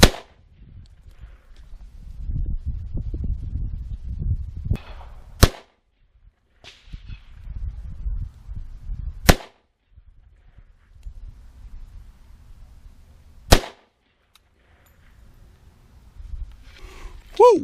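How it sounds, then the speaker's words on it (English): Three sharp, loud handgun shots from a .357 Magnum or 10mm fired into clear ballistics gel, spaced several seconds apart, with someone talking quietly between them. "I'm going to go ahead and shoot these other 4 rounds"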